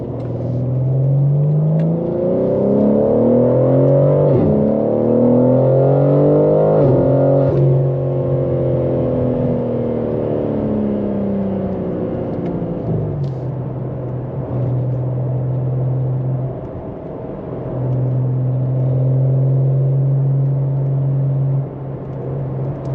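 A BMW M3 Competition G80 engine pulls hard through the gears, its tone rising in sweeping climbs with quick drops at each shift, then settling into a steady close-up drone, loud and alone.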